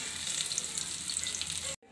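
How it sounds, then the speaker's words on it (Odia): Chopped onions frying in hot oil in a kadai make a continuous close sizzle and crackle for the whole stretch, stopping abruptly just before the end, with no talk. "ଆମ ପିଆଜକୁ ଫ୍ରାଏ କରିନେଇଛି"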